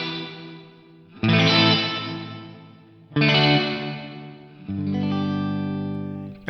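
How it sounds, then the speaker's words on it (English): Loud, heavily processed synth-like tones from a BOSS Tera Echo TE-2 pedal swell in three bursts, each trailing off into swirling, resonant echoes with a filtered, whooshing shimmer. "you're just going to get basically more echoes getting whooshed around in there"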